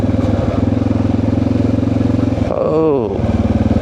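A motorcycle engine chugging steadily on a muddy trail ride toward an Alabama river lock and dam, close and loud, with a brief rev or gear change in the middle; a rider talks over it.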